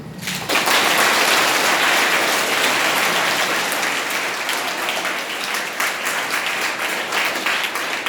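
An audience bursts into sustained applause for Vepalli Ranga Rao at a Kriya Yoga gathering in a school or college, dense clapping rising abruptly and holding steady and loud for about eight seconds.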